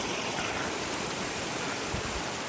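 Water flows steadily from a pipe on a mountainside near a mosque, a constant close rushing wash with no pauses or voices.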